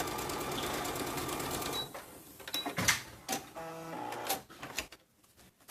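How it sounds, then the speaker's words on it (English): A sewing machine stitches a zipper tote in a fast, quiet run for about two seconds, followed by a few scattered mechanical clicks and short bursts before falling silent. "I'm going to put it back where I left off and finish sewing all the way down"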